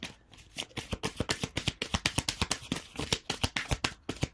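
Rapid riffle shuffling of a deck of cards, a dense run of crisp flicking clicks repeating steadily throughout, close and clear with no talking.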